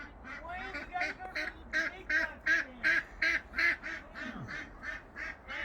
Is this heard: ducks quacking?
yes